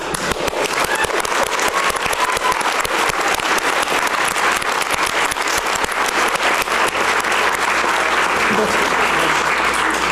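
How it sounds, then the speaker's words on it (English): Loud, sustained applause from the audience at a Salt Lake City anti-bullying press event, dense clapping filling the room for about ten seconds without letup. "we should take a moment, please, and clap hands for him"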